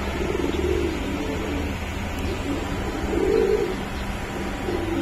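Kaldom pigeons give soft, low, repeated cooing calls in a few rounded phrases over a constant loud hum of background noise.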